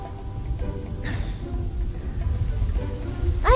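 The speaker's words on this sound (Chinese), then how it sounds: "下雨了。" Rain begins to fall as a steady, fairly close patter and hiss, with some brief louder noises over it.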